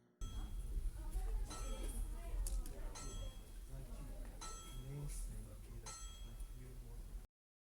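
Metal banging from the Avengers: Endgame post-credits scene: a loud, continuous run of ringing clangs and clinks, sharp hammer strikes repeating irregularly over several seconds, then an abrupt cutoff.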